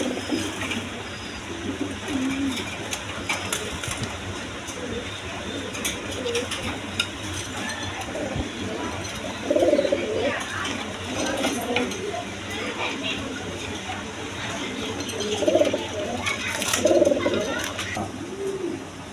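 A breeding pair of pigeons for sale cooing, with repeated soft, throaty coos coming in short bursts at intervals, close and clear over a background of indoor noise and occasional clatter, while someone talks throughout.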